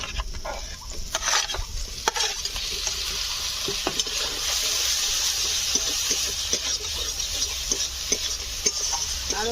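Raw prawns stir-fried in a thick spice paste make a loud, continuous sizzle with frequent scraping spatula strokes and clacks against the pan, close up and without speech.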